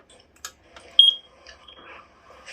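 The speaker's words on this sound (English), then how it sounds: "I like the way it tests like beep beep beep beep beep" A very large smoke alarm under test gives a short, sharp high-pitched double beep amid quiet handling noises and faint room sounds.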